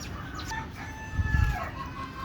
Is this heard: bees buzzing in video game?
no